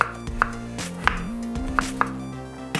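A knife quartering whole tomatoes on a cutting board, a few distinct sharp chops spaced irregularly over a steady low background hum, close and clear with no speech.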